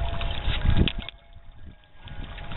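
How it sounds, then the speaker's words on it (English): Wind gusts roughly against the microphone outdoors at night, loud and buffeting at first, then easing to a softer, steady rush. "it's really windy"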